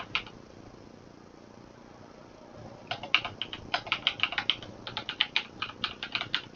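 Rapid, irregular keystrokes on a computer keyboard as an email address is entered into a registration form, close and clear, starting after a quiet stretch and continuing alone with no talking.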